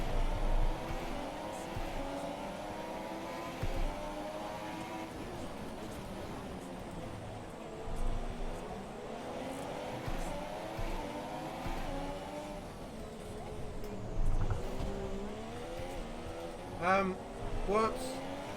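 Formula 1 race cars in the F1 2017 video game, high engine whines rising and falling through gear changes as cars run close together, with people talking over the racing throughout.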